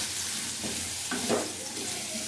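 Taro pieces (gathi kochu) fry in oil with turmeric, a constant close sizzle broken by a couple of stirring scrapes in the pan.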